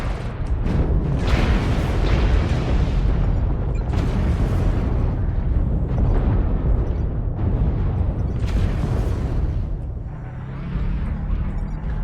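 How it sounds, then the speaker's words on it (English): Artillery strike explosions in the mech combat game MechWarrior Online, a dense continuous run of loud booming blasts and rumbling impacts layered over one another for the whole stretch, easing slightly near the end. "Artillery strike online. Artillery strike activated."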